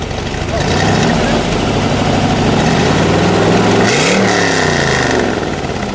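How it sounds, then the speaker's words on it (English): A fuel-injected 327 engine in a 1963 Chevrolet Corvette Z06 rumbles loudly at idle, then is blipped into a sharp rev that rises and falls around the middle before settling back. "Give it a rev, Mike."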